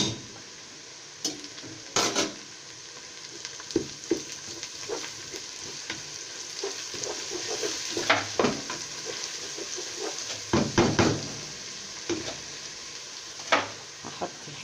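Garlic frying in hot ghee and oil, a steady sizzle and crackle with sharp pops and the clink of a spoon stirring against the pan, no voices.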